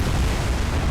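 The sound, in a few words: naval gunfire in War on the Sea video game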